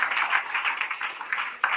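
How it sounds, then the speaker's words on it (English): Audience applause at a school awards event, a dense burst of clapping from a crowd that carries on briefly, fairly close and steady, with no talk over it. "A round of applause for you."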